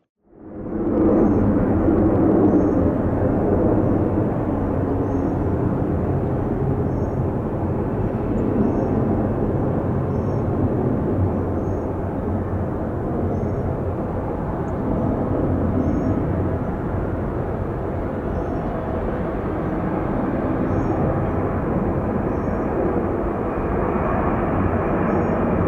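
A Delta airliner takes off from runway 26 left at Atlanta International Airport, its engines swelling quickly into a loud, sustained roar that holds steady throughout.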